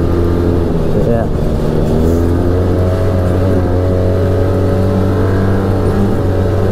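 An Arctic Cat Wildcat Trail XT side-by-side driving on trails at 25-30 mph, its engine droning steadily and loudly throughout, with a pitch sweep as it revs.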